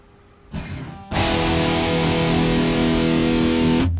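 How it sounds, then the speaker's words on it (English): An electric guitar's bridge pickup with Alnico magnets plays through full distortion, a short quiet lead-in and then a loud, sustained, buzzing chord that rings for nearly three seconds before cutting off abruptly. "So the bridge pickup on a distortion sound."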